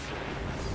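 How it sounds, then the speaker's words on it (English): Destiny 2 enemies fighting among themselves: a brief, dense wash of distant gunfire and booming blasts runs without a break, with no voices. "They're having like a war. They're shooting each other."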